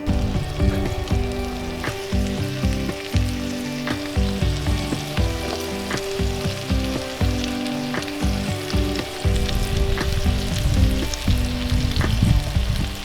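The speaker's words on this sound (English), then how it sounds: "we're gonna close the top, let it sit there for maybe a minute or so, sear each side." Pork chops sear on a Weber griddle under a closed lid, giving a loud, steady sizzle and crackle of frying fat that carries on without pause and with no voices.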